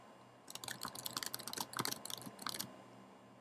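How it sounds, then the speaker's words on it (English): Keys clatter on a Mac computer keyboard in a quick, uneven burst of close, light clicks lasting a few seconds, with no talking. "Can I just type in anything?"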